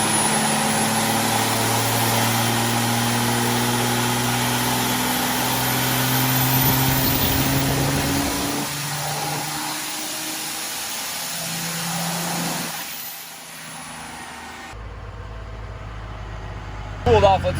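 A car engine runs steadily on a dyno during a pass on an SXE intercooler upgrade build, its drone climbing in pitch as the revs rise, then easing off before a brief change near the end, with some voices under it.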